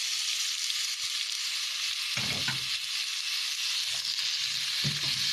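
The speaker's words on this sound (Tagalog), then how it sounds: "Once mainit yung mantika, ilalagay natin yung sibuyas." Onion sautéing in hot cooking oil for a Filipino clam dish, a steady loud sizzle throughout with a couple of brief stirring scrapes, no voices.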